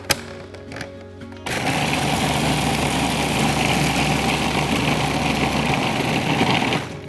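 A blender whizzes a keto fat bomb mixture with vanilla powder, starting after a quiet second and a half and then running as a loud, steady motor whir to the end.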